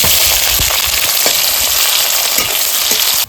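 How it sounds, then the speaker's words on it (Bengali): Chopped onion fries in hot white oil in a wok, giving a steady, loud, close sizzle with scattered crackles and pops throughout, no voices. "তেলটা গরম হয়ে গেছে পেঁয়াজ কুচিটা দিয়ে দিচ্ছি"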